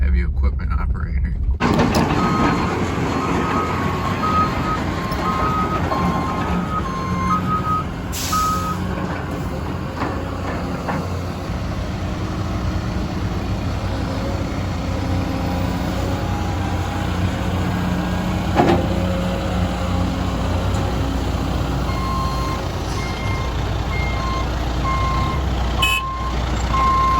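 A dump truck's reversing alarm beeps steadily and repeatedly over the loud, constant drone of its engine nearby, while dirt is being hauled at a home.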